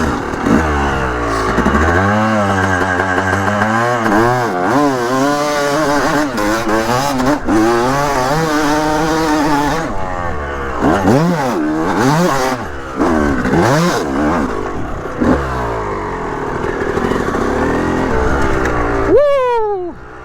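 A 250cc two-stroke dirt bike revs hard on a hillclimb start in second gear, the engine rising and falling through repeated sharp throttle blips, loud and close, with a high rev at the end.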